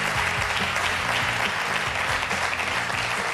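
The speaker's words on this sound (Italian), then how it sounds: "un grande applauso, Davide, pazzesco" A studio audience at an Italian football talk show claps in a steady, dense burst of applause lasting several seconds, full and close, with faint crowd murmur underneath.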